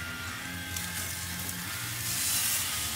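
A rib steak sears on the hot grate of a Weber grill, giving a steady loud sizzle with crackling fat that swells slightly toward the end, close up and with no talking.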